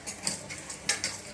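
A spoon stirs thick Mysore pak mixture of gram flour, ghee and sugar in a pot as it cooks, giving soft scraping swishes with a few sharper clinks against the vessel, close and steady, with no talking.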